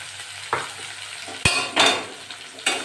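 Garlic, onion and green chili frying in a pan sizzle softly beneath a handful of sharp scrapes and clinks from a utensil stirring against the metal, close up and with no voices.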